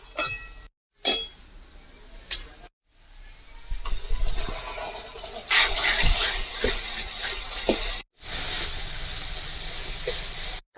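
Ginger garlic paste goes into hot oil with fried onions, giving a broad, bright sizzling hiss that comes in choppy bursts broken by short silences, with a few light utensil clinks.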